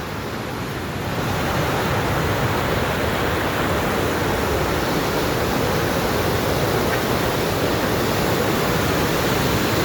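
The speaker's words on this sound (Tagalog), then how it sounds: "Pantay na sa tulay yung baha." Floodwater rushing over a road and level with a bridge, a loud, continuous broadband roar of churning water, close and unbroken for the whole stretch, with no talk over it.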